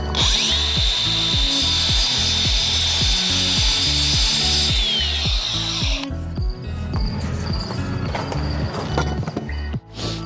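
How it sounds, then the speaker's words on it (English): A power saw cuts the edge off a Versetta Stone trim block, a loud steady whine with rhythmic rasping chatter that runs for about six seconds, then stops, leaving scraping and handling noises. "I gotta cut off this little edge."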